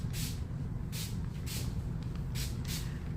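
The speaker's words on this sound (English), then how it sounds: "what I'm spraying is the Replenish leave-in" Five short bursts of leave-in conditioner sprayed from a pump bottle onto natural hair, each a soft hissing puff, irregularly spaced over a low steady background rumble.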